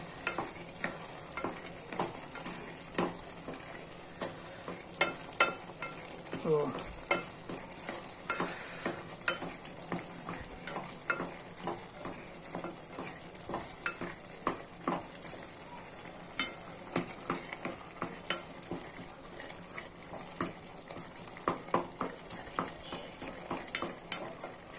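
Tomato chutney (tomato gojju) sizzles gently in a pan while a spoon stirs it in repeated soft scrapes and clicks, fairly quiet and close, with no talking.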